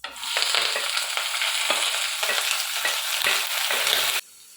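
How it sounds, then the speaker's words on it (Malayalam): Onions and mustard seeds sauté in a hot pan in a village home kitchen, a steady loud sizzle with repeated scraping stirs throughout, close-up and alone before cutting off abruptly. "ഇനി ഇതിലേക്ക് ഇതെല്ലാം കൂടി ഇട്ട് വഴറ്റിയെടുക്കുവാണേ."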